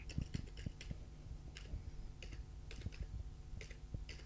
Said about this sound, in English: then type in your password